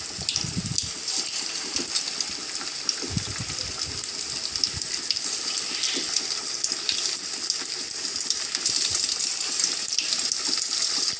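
Moong dal vadas fry in hot oil, giving a loud, steady, close hiss and sizzle that runs throughout without a break, with occasional faint knocks beneath it.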